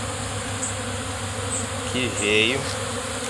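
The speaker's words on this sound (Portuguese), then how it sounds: "Vai vendo a quantidade de abelha" Honey bees (Apis) swarm over honey frames holding leftover honey, a dense, steady buzzing hum close by, with a brief spoken phrase over it.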